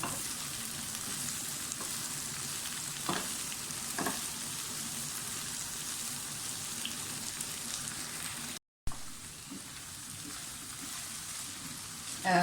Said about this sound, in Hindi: चम्मच मुसलसल हिलाते जाएं ताकि दोनों चीज़ें एक जैसी फ्राई हों